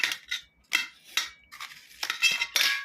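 A knife slicing through a watermelon in several separate strokes, each a short crisp cut with a slight clink of the blade, spaced about half a second apart, close by and with no talking.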